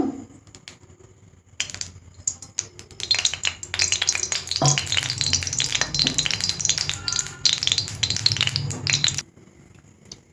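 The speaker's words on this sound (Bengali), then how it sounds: "কড়াইটা গরম হয়ে গেছে, আমি তেল দিয়ে দিচ্ছি ডিমটা ভাজার জন্য।" Mustard oil heats in a hot kadai before eggs are fried. A faint start gives way to a loud, dense crackle and sizzle lasting about six seconds, then it cuts off to near quiet.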